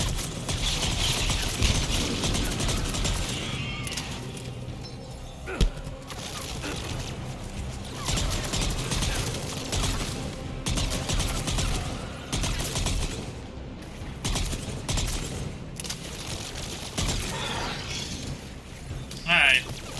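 Heavy weapons fire in Mass Effect 3 as dense, sustained bursts of shots and impacts, with a voice talking over the fighting.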